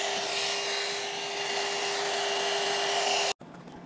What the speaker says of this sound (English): The pet hair dryer specifically designed for small medium dogs and cats.